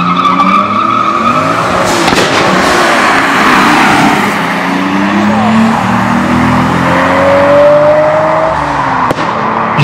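Race cars launch and accelerate hard in a quarter-mile drag race at Aldenhoven, loud engines rising in pitch with tire squeal as a rear end swings out, one continuous roaring run close by.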